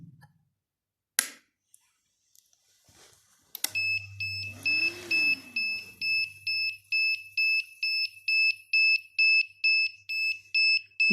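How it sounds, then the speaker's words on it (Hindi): An electric bike controller sounds its alarm, a run of regular high-pitched beeps pulsing steadily and close, preceded by a brief rising whoop and a few clicks. "ये फ़िलहाल इसका यार जो बज रहा है अलार्म, ये मैं बंद कर देता हूँ।"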